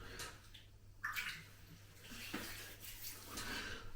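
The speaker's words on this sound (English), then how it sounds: "So first of all, I'm going to wet the whiskers, of course." Water splashes and trickles as whiskers are wetted before a shave with a safety razor, several close splashing bursts over a quiet background.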